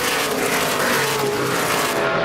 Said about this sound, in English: Kyle Busch navigating the traffic.